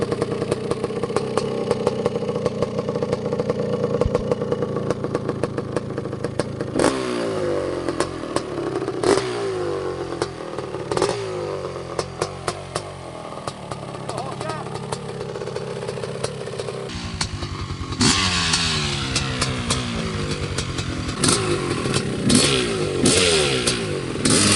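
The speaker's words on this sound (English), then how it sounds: "That's how you do a third gear start." A 1987 Honda CR500 big-bore two-stroke motorcycle revs hard and pulls away in a third gear start, its loud crackling engine rising and falling through repeated throttle blips, with no voices.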